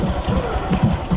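A motor tricycle engine idles close by, a loud low rapid chugging pulse with an even mechanical rhythm.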